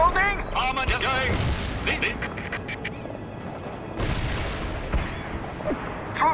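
A heavy artillery barrage thunders in the real-time strategy video game World in Conflict. Deep, booming blasts land at intervals under a busy battle soundscape, with voices chattering over the explosions.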